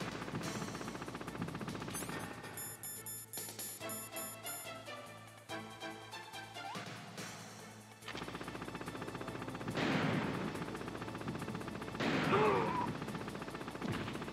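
Gunshots in the Metal Gear Solid video game, a series of sharp reports and bursts of automatic fire over game music, some shots close and punchy and others rattling in quick rapid sequences.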